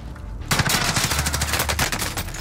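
Rapid automatic gunfire from an online shooter game, starting abruptly after a brief lull and continuing as a dense, loud burst of overlapping shots for about two seconds.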